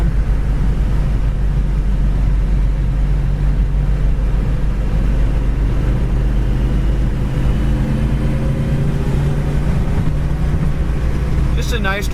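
A 1966 Ford Mustang coupe cruising down the road, with a steady low engine and road drone and a constant rush of wind noise throughout, near and fairly loud, with no pauses.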